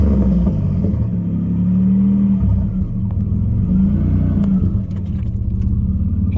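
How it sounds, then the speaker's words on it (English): A Nissan 300ZX Z31 turbo engine, running after a fuel pump replacement, idles with a deep close rumble and rises in two smooth revs before settling back, loud and steady with no voices. "I don't know if I give it the rev and if she kind of bogs a little bit."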